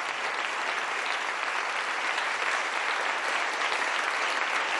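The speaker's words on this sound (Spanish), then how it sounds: "Recibe el aplauso del público reunido aquí en Alcalá de Henares." A gathered public in Alcalá de Henares applauds at the Premio Cervantes award ceremony, a dense, loud, continuous roar of clapping from many hands, steady throughout with no voices on top.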